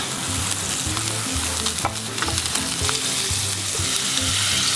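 A bread bun frying in melting butter in a pan, a loud continuous sizzle with crackles and stirring scrapes, close up and without talk.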